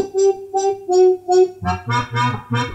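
Eight rhythmic synth notes: four thinner, ringing tones give way to four fuller, warmer ones, played alone at a steady pulse.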